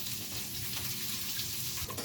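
Tofu cubes fry in a pan for tokwa sisig, making a steady, close hiss and sizzle that holds evenly throughout, with no talking.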